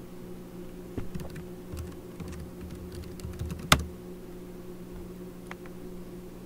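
Computer keyboard keys clicking as a password is entered on a Linux machine, a sparse run of quiet taps with one sharper keystroke near the middle, over a low steady hum and no speech.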